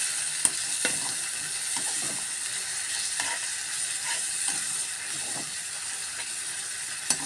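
Onion paste sautéing in a pan for egg curry, a steady close sizzle with a few soft stirring scrapes and occasional sharp clicks, no talking.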